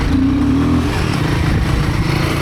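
Royal Enfield Himalayan 450 motorcycle engine lugging at low revs through deep sand on a Michigan singletrack trail, a loud, steady, close engine drone with a rough low rumble throughout.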